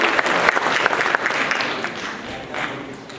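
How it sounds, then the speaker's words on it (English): Applause from a workshop audience at a memory-training event fills the room steadily and loudly, a dense wash of clapping that tapers slightly toward the end. "Give him a round of applause."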